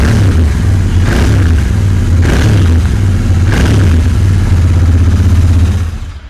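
A Royal Enfield Continental GT 650 twin-cylinder motorcycle engine idles close by with a loud, steady low thump, blipping the throttle three times before the sound fades out.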